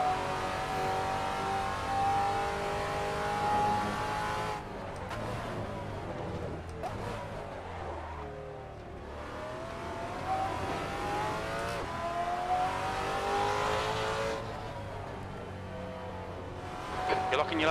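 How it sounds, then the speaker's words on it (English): Race car engine in Assetto Corsa revving and shifting through changing pitch, with tire noise as the car slides, and a voice talking over it at times. "I love the sound of this car."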